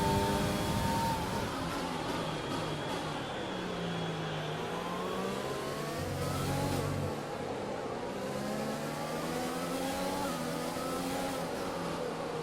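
A race car in a racing video game climbs back up to racing speed after a safety car period, its engine note rising through several gear shifts, loud and continuous with no talk.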